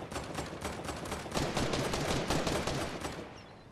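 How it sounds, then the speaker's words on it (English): Gunfire in a Fortnite match comes as a rapid burst of automatic shots, a fast string of sharp cracks that swells through the middle and fades out, heard alone at moderate volume. "I just got shot at from probably up top."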